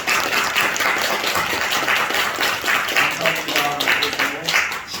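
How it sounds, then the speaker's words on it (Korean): Steady applause from a church congregation during a New Year service, many hands clapping continuously for several seconds without pause. "우리 환영의 박수 하겠습니다."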